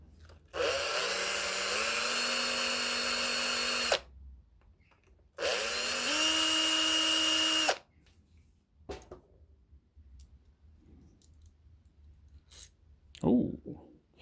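A power drill backs screws out of a blender being taken apart: two loud, sustained whirring runs of about three and two seconds, each ramping up in pitch, followed by scattered clicks and handling noises and some talk.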